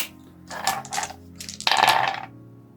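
Dice clatter across a tabletop during a dice game, with two short rattling bursts followed by a longer, louder tumble as they settle, and no talking.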